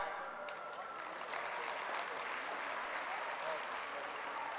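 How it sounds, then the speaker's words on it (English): A school annual day audience claps steadily, a continuous, fairly faint wash of many hands heard from a distance with no break. "you should clap"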